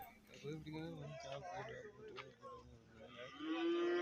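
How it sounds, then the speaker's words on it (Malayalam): Buffalo calves low repeatedly at a cattle market, several drawn-out moos overlapping one another, with a loud close bellow at the end and people talking in the background. "പോത്തുകുട്ടികൾ"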